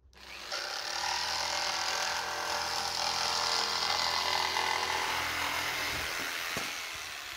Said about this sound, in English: I've decided to cut the template out of 1/8 ply.